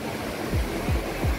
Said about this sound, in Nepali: यो पानीको बेग चाहिँ अझै घटेको